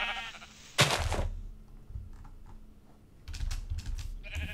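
Sheep in a modded Minecraft game give a couple of short bleats amid bursts of keyboard clicking, fairly quiet and close, with brief gaps of near silence between.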